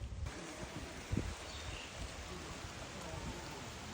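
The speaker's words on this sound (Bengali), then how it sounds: "বৃষ্টি কিন্তু টিপ টিপ পড়তেছে" Steady soft patter of light rain on surfaces and leaves, a continuous gentle hiss with one brief louder knock partway through.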